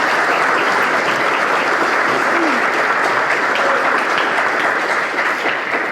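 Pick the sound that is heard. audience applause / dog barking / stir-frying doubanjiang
audience applause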